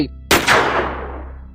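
A single loud shot from a .223 rifle fired in a forest cracks sharply and rolls into a long echoing decay through the trees, close and alone.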